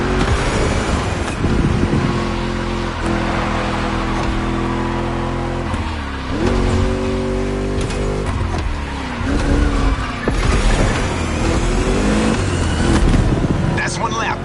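Cars lapping a track in the racing video game The Crew Motorfest, with engines revving up and down through gear changes, tires squealing, and a voice talking over the engine noise.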